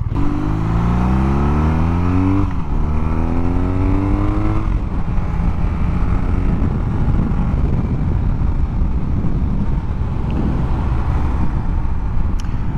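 A 2022 BMW R nineT boxer-engine motorcycle revs up hard in rising sweeps, then settles into a loud, rough, throbbing idle that continues close by.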